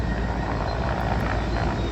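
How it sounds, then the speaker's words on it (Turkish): A Turkish military helicopter carrying water to a wildfire flies overhead, a constant loud rotor roar and thudding rumble with no voices over it. "İşte askeri helikopterimiz burada e, su aldı"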